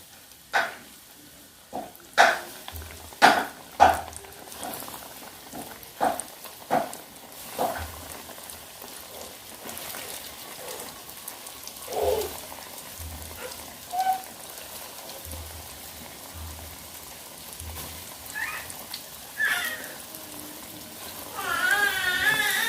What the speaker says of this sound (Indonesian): Nah, ini saya mau goreng ya Bunda cirengnya.